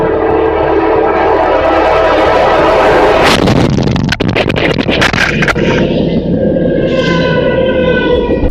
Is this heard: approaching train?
yes